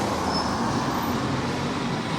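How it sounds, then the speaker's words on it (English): Constant road traffic roars along Waterloo Road in Blackpool's South Shore back streets, a close, unbroken wash of passing vehicles with no voices heard. "Sorry about the traffic noise, there's not much I can do about it."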